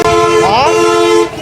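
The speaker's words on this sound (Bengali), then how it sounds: "এত জ্যাম, আর মানে চারপাশে এত পরিমাণে হর্ন" A car horn blasting in a congested street jam in Rangpur, one long loud steady toot held for over a second before cutting off, with traffic rumbling beneath.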